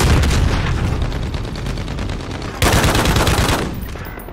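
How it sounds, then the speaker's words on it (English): Sustained rapid bursts from a light machine gun in a Call of Duty game, loud and dense, with a fresh burst kicking in partway through and no talk over it. "Oh, that's a badass LMG."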